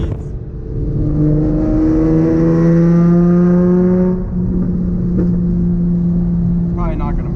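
A Nissan 350Z fitted with a full Tomei exhaust drones loudly in third gear at cruising speed, engine tone climbing steadily under acceleration, easing briefly, then holding a smooth sustained note heard from inside the car.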